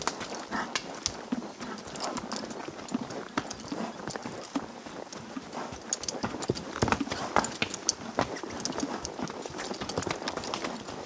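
Hooves of gaited mules clip-clop steadily along a Colorado mountain trail, close up and continuous in an even rhythm, with no talk.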